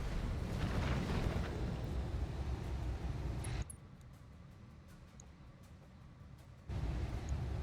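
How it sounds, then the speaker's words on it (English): Weapons fire at a turret in the BattleTech video game, a loud rumbling barrage of blasts and booms that cuts to a quieter lull for a few seconds before the heavy firing resumes. "we're going to try to shoot the turret"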